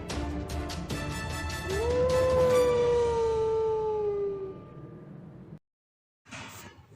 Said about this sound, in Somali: yey kasta waxa ay leedahay qaylo u gaar ah